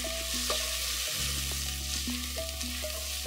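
Ground cumin cooks in hot oil in a pan, giving a steady loud sizzle and crackle throughout, with stirring scrapes and shifts in the frying noise.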